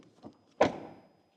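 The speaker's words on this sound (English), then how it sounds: "I would wish that the rear door closing sound is like in the front." The rear door of a 2025 Volvo XC90 shuts with one solid, close thud, preceded by a faint click and followed by a short, muffled decay.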